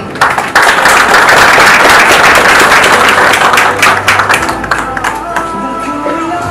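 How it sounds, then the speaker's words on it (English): A crowd claps at the official launch of the Kenya Space Agency Strategic Plan 2023-2027, loud, dense applause that gradually thins into scattered claps with some background murmur. "A big round of applause for that."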